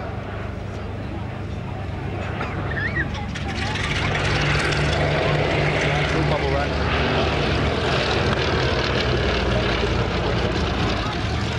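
A vintage propeller aircraft, either a Westland Lysander or a Consolidated Catalina, drones steadily at East Kirkby, its engine noise growing louder and fuller partway through, while someone narrates over it.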